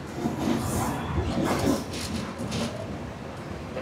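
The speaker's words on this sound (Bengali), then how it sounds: "আর আমাদের ট্রেন প্রবেশ করছে 7 নম্বর প্ল্যাটফর্মে।" The Howrah Mail train rumbles as it enters Visakhapatnam Junction station, a continuous low rolling noise with faint rattling and a brief louder swell, alone and without talk.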